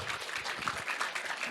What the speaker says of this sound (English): Let's give you a big round of applause and welcome you to Vilnius.